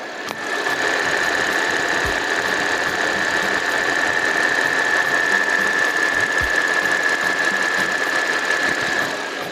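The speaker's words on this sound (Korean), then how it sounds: "마지막으로 엔진 소리 한번 들어볼게요" An Audi A6 3.0 TFSI quattro S-line engine idles with a constant hum and a sustained mid-pitched whine, smooth and even throughout, with no voices.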